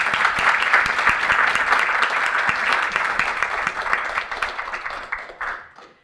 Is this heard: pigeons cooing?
no